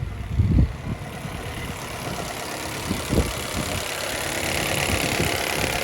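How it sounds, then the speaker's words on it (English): A car engine from a $2300 auction buy idles while warming up, a steady close low rumble with a couple of brief louder thumps near the start and a slowly rising level. "just let it warm up for a bit and see if anything happens to this idle or not"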